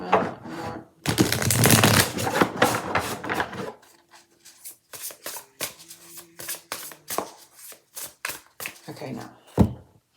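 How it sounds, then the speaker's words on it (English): Tarot cards riffled and shuffled by hand in a loud, dense burst of papery flutter, followed by softer intermittent card slaps and rubbing, with a voice talking faintly in places. "one more shuffle"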